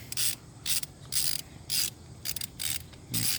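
A ratchet wrench loosens a bolt on the water pump of a 2005 Dodge Charger with the 5.7 engine, giving six quick rhythmic bursts of metallic clicking, close and clear with no talking.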